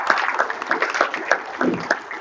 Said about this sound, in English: Nice round of applause for his time tonight.